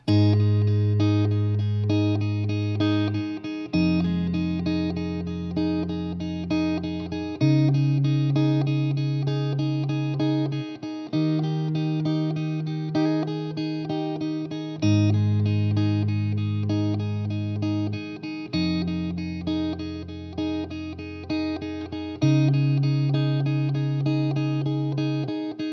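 Fingerpicked guitar playing the verse of a song, steady plucked bass notes under ringing chord tones in a slow repeating pattern, played alone without any talking.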